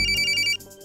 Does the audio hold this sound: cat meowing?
no